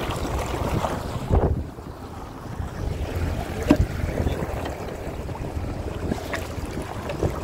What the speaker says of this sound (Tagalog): Ito ay Yamaha Wave Runner na GX 1800 na super high output.